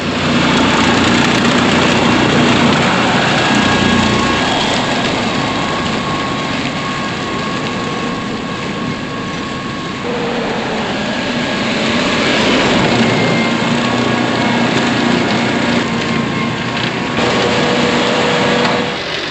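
Mower engine running steadily while cutting a path from a farm out across the property, a loud continuous droning roar for the whole stretch with slight swells in load and no talk.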